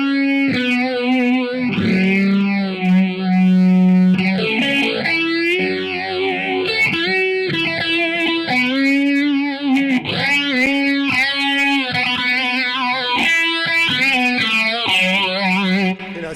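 Electric guitar pushed through a fuzz pedal with a sweeping, phaser-like swirl, sustained bending notes and chords ringing loud and steady for the whole stretch with no talking.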